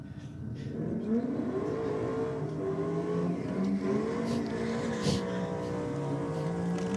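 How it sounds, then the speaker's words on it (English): A Holden VL race car at a drag racing event holds a loud, steady engine roar with wavering revs while its rear tyres grip rather than spin freely, the note rising and falling across the whole stretch. "the VL definitely couldn't get a lot of heat in the tyres, just gripped up in the burnout"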